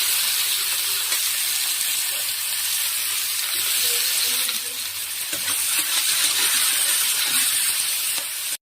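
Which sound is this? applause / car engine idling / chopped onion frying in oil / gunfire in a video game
chopped onion frying in oil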